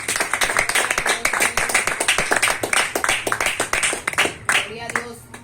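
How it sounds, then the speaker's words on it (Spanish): Church congregation clapping for the Lord during a sermon, loud rhythmic hand claps in a brisk steady beat close by, thinning near the end as voices cheer and speak over it. "den un fuerte aplauso al Señor"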